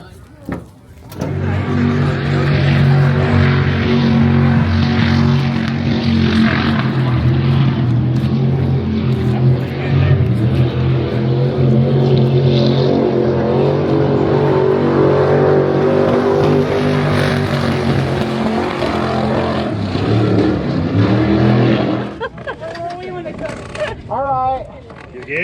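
Sprint car engine roaring steadily and loud for about twenty seconds, a dense continuous drone with rising revs, then cutting off abruptly, followed by brief clatter and a little speech.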